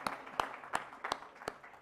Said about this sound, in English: A round of applause for that, please.